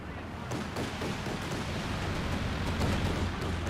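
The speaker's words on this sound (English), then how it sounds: "the Land Mattress fired partial barrage there" Land Mattress rocket artillery barrage in Company of Heroes 2 rolls as a dense, continuous rumble of blasts, with a few sharper bursts standing out from the roaring wash.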